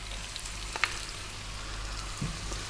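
Eggplant goes into a hot pan with onion, ginger and garlic for a vegan sweet and sour stir fry, giving a steady, soft sizzle with a few faint clicks and no talking.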